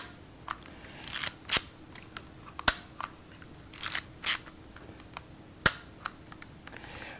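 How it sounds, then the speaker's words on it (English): A film camera being wound and its shutter cocked, a series of dry mechanical clicks and ratcheting snaps, some sharp and some softer, spaced unevenly over several seconds at close range with no talking. "this would wind the film and cock the shutter."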